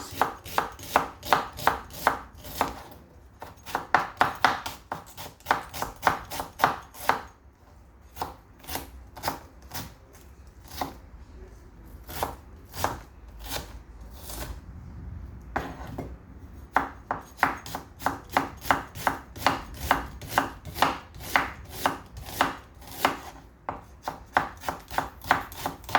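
A knife chops onions on a board in quick, steady rhythmic bursts of sharp taps, with a short pause mid-way before the rapid chopping resumes, close and clear without talk.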